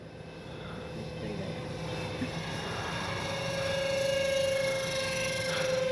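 A CNHL Horten 229 radio-controlled jet with twin 30 mm ducted fans holds a steady whining hum at less than half throttle, the tone rising slightly near the end against open outdoor air.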